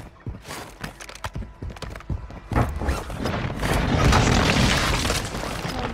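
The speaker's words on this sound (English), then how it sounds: "airstrike. Find cover." Airstrike explosions in Call of Duty Warzone Mobile, a series of thumps building into a loud, sustained rumbling blast that swells over several seconds.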